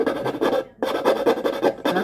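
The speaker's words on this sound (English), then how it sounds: "I could see if this file will work." A hand file rasps back and forth while cutting out a circle for a homemade bracelet stand, with steady close strokes broken by one brief pause.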